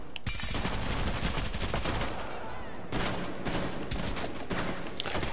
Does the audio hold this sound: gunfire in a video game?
yes